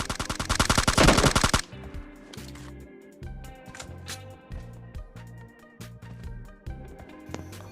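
An M416 assault rifle fires in the PUBG Lite video game: a dense, loud full-auto burst at the start, followed by a rhythmic series of shorter bursts and single cracks spaced through the rest of the clip.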